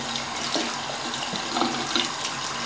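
Tap water runs steadily into a sink while a makeup brush is rinsed on a silicone cleaning mat, a close, continuous splashing stream with small irregular splatters.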